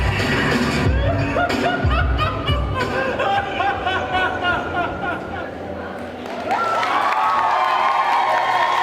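A live audience at a cosplay contest at a Japan party event applauds and cheers a performance, loud steady clapping mixed with crowd noise and some laughter, with a voice talking over it near the end.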